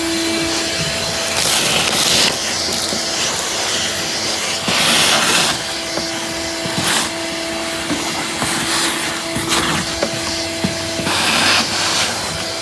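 A shop vacuum runs continuously close by while it cleans out the acorn on a 35,000-mile E21, a loud steady whine and hiss with the pitch shifting and surging as the nozzle moves.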